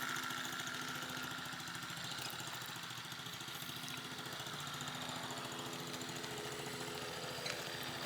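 A dirt bike engine runs steadily throughout, a continuous mid-pitched drone that stays fairly loud and even, with no speech over it.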